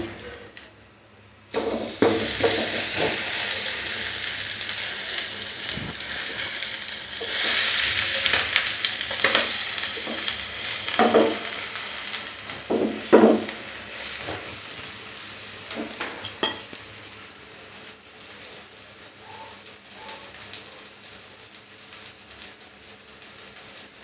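Gram flour coated bread toast fries in a pan after being flipped, giving a steady crackling sizzle with bursts of louder spattering popping through the middle.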